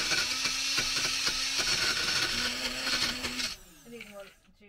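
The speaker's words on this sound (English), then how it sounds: "This is a fun little blender." A small blender whirring in a camper, a high steady motor whine with rattling pulses that winds down and stops near the end, faint and close.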